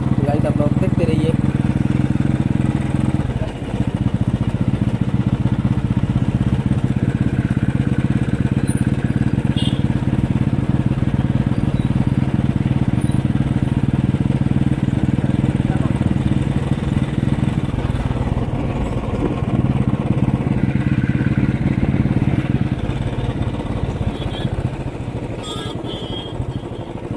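A motorcycle engine drones loud and close while riding toward a petrol pump, holding a steady mid-pitched hum with light clatter and wind for the whole ride.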